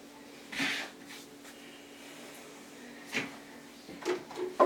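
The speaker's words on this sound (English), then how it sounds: "Good job putting the deodorant back in the drawer." A stick of deodorant is put back into a drawer, which then closes, giving a few soft knocks and thuds spread apart, with a sharper bump right at the end.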